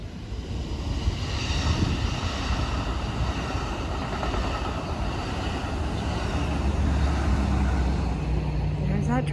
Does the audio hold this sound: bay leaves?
no